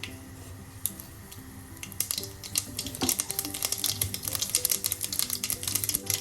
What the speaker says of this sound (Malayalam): എണ്ണ ചൂടാകുമ്പോൾ അതിലേക്ക് 1/2 ടീസ്പൂൺ കടുകിട്ട് പൊട്ടിക്കാം.